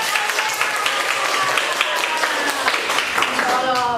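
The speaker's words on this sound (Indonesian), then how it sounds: "tepuk tangan buat Alia." Classroom applause for a student, a dense patter of many hands clapping steadily at moderate volume, with voices mixed in underneath.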